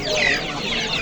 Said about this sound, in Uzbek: Anjan qora jo'jalar bular